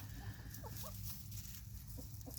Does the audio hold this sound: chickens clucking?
yes